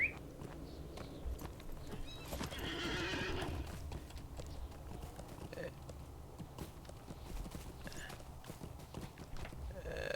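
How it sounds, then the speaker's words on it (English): Horse neighs and clip-clopping hooves from Lord of the Rings Online, with a whinny near the middle of the clip and steady hoof steps throughout. "How am I'm always calling the wrong horse."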